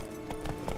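A horse's hooves clop in quick galloping beats in The Witcher 3: Blood and Wine, a short burst of rhythmic thuds close by.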